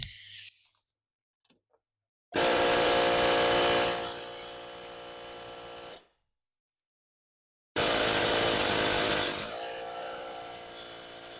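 An air hammer vibrates a nut on the threaded end of an axle during bearing work. It fires in two loud, dense buzzing bursts of a few seconds each, separated by a silent gap.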